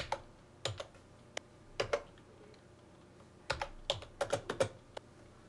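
Keys on a computer keyboard are tapped in short, irregular bursts, crisp close clicks clustered in quick runs with quiet pauses between, alone and fairly soft.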